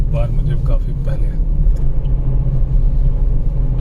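A car drives at night with steady low engine and road rumble throughout, some voices faintly in the mix.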